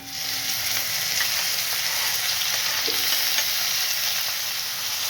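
Onion and tomato fry in oil for a broccoli sabzi, a dense, even sizzle close by that holds steady throughout without any talking.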